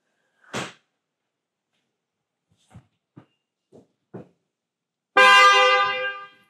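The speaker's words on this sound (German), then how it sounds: "Hupe prüfen, ganz einfach. Funktioniert unsere Hupe noch?" A few scattered clicks and thumps, then a Tesla's car horn blares once for over a second, close by.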